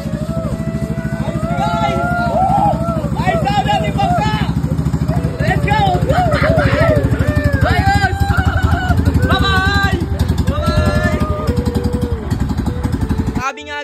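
A fishing boat named Nemo runs its engine on a test drive at sea, a steady close drone that continues throughout while several people talk and exclaim over it.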